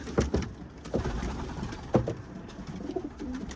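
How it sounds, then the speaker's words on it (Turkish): Homing pigeons coo before release on a hot, humid day, soft low throaty calls repeating close by amid scattered light knocks and shuffling. "Ben postaları bırakacağım."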